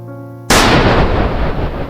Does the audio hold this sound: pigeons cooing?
no